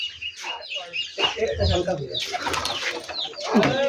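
Rajshahi Giribaj pigeons, close by, with a flurry of wing flaps and soft bird calls as one is released, while people talk nearby.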